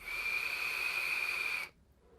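A steady high-pitched whistle from an Advken Dark Mesh sub-ohm vape tank's airflow, throttled to about half, sounds loud and close for over a second and a half, then stops abruptly, leaving near silence.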